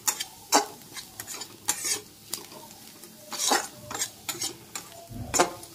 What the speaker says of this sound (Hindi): देखिए हमारे मसाले पक रहे हैं